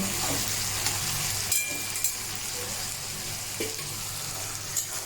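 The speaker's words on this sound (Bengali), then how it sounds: "আর একটুখানি ভেজে ভাজাটা নামিয়ে নেব।" Okra (bhindi) frying in oil with onion, a steady close sizzle and hiss running throughout, with a few soft scraping stirs; no one speaks.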